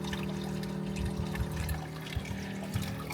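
Water drains from a self-bailing boat deck through small drilled holes, a steady close trickle and pour under a constant low mechanical hum.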